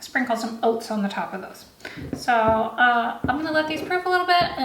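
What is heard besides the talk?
No distinct noise like a dog, phone or traffic.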